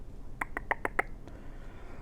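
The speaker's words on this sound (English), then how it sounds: "Oh, I think you can hear the birds outside." A handful of quick, bright bird chirps outdoors, about five in a fast row and then one fainter note, heard faintly from inside against a quiet background.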